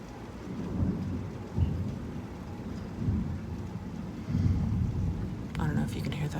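Low, muffled rumbles of thunder roll in several swells beneath steady rainfall during a storm, with a brief crackle near the end and no speech over it.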